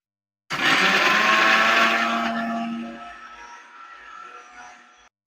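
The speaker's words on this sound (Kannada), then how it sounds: "ಒಂದ್ ಚೂರ್ ನೀರ್ ಹಾಕೊಂಡು ಇದನ್ನ ನುಣ್ಣಗೆ ರುಬ್ಕೊಳ್ಬೇಕೀಗ" A mixer grinder whirs loudly as it grinds masala with cumin and a little water for mutton keema bisi bele bath, starting abruptly, then the motor winds down and fades over a few seconds.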